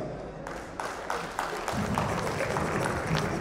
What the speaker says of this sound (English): please give a thorough round of applause to the bride's family